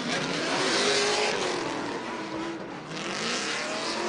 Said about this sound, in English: Vaughn Gittin Jr. coming into that first rear clipping zone on the flat bottom.